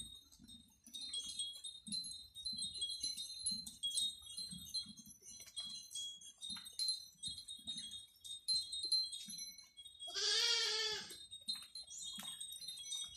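A sheep on a Thai farm gives one clear bleat midway, standing out above a steady low rustle and scattered chewing or shuffling sounds from the flock.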